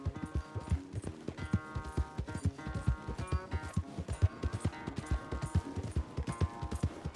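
A horse galloping in the video game Red Dead Redemption 2, a steady rapid run of hoofbeats with faint harness jingle over soft background music, moderately quiet and without talk.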